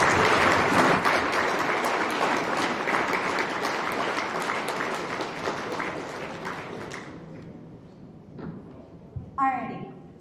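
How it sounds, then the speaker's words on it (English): Dinner guests applaud the volunteers at a church event in a hall, a full round of clapping that fades out after several seconds, followed by scattered taps, thumps and a brief voice. "can we get a quick round of applause for all the volunteers?"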